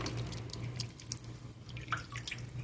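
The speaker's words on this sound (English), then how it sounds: "I'm just going to water this." Water from a bonsai watering pours and drips onto soil and leaves, a faint, irregular patter of small drops and trickles heard up close.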